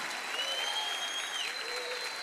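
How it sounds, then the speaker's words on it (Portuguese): A church congregation applauds in a steady, dense wash of clapping throughout, with sustained singing voices or tones carrying over the top. "aplauda o Senhor, aplauda o Senhor, aplauda o Senhor"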